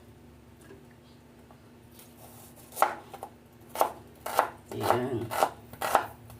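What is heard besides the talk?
chopping onions for arroz caldo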